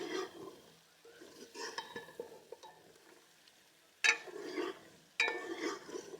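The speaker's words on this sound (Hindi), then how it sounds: "1 मिनट और इसकी भुनाई करेंगे।" Potatoes coated in masala are roasted in a pan. Quiet, intermittent scrapes and stirring strokes of a spoon sound against a soft background sizzle, with a few sharper clinks near the end.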